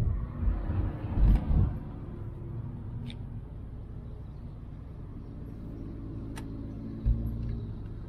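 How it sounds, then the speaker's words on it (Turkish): An Alfa Romeo 156 engine braking downhill in second gear gives a faint, steady low rumble from inside the car, with a couple of slightly louder bumps. "Şu an araba ikinci viteste motor freni yapıyor."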